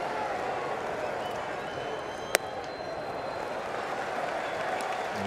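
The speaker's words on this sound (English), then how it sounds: "Really got this crowd fired up." A baseball stadium crowd applauds and cheers in a steady, distant-sounding wash of noise after a hit, with one sharp brief click in the middle and a voice faintly underneath.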